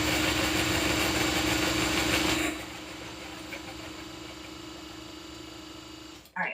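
A sewing machine stitching fabric runs with a steady mechanical hum and whir for about two and a half seconds. It then drops to a quieter idle drone, and a short clunk comes at the end.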